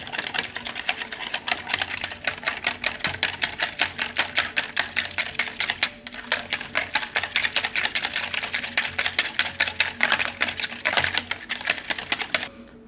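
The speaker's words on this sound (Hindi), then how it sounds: "अंडे को अच्छी तरह फेंटें।" Whisking a single egg for a zeera paratha breakfast batter, a rapid, steady clatter of strokes against the bowl that keeps going without a break, fairly loud and close, with no voices.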